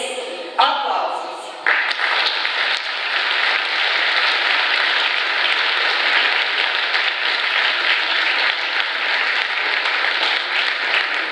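Concert audience applauds at a 20th anniversary jubilee concert, a sustained wash of clapping that swells after a brief pause and continues steadily, with some speech faintly mixed in.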